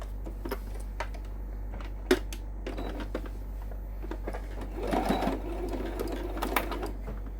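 A sewing machine runs in short bursts of rapid mechanical stitching, back stitching along the binding of a table runner, close and fairly quiet over a steady low hum.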